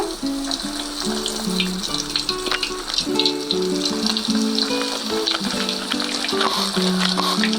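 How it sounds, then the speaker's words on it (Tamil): Potato nuggets frying in hot oil on a low flame, a continuous bubbling crackle close by, with a droning musical tone running beneath it. "இப்போ நமக்கு எண்ணெய் சூடாயிடுச்சு. நம்ம இப்போ போட்டு ஃப்ரை பண்ண வேண்டியது தான்"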